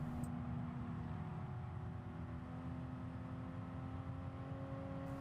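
A Toyota GR Supra GT Cup car at full throttle around Mount Panorama in Gran Turismo Sport, a steady, sustained engine drone with a constant high whine, loud and continuous throughout with no voices.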